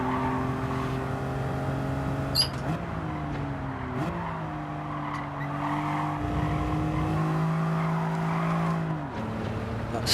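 A BMW Z4 in Gran Turismo 7 slides out of a corner during a time trial, its engine droning and shifting pitch as tires squeal through the drift, loud and continuous, with brief gear-change dips.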